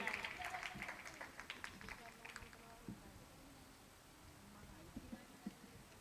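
Audience applause at a Jain religious discourse in Kolkata, a burst of hand clapping early on that fades away, followed by a quieter room with a few scattered sounds.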